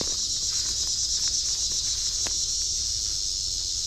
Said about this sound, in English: that cicada's right over my head